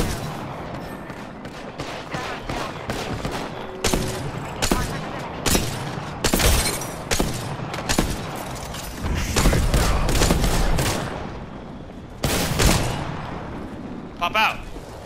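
Rapid bursts of gunfire and sharp booms crack through an Apex Legends Arenas match, loud and irregular, with several clustered volleys and a player talking over the shooting.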